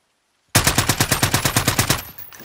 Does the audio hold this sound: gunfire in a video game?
yes